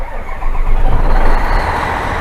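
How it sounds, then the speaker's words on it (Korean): A 2009 Hyundai dump truck's diesel engine cranks and catches, then settles into a loud, steady low rumble close by, with no talking. "시동을 걸었는데 여러분들이 들으시기에는 엔진 소리가 어떨지 모르겠습니다."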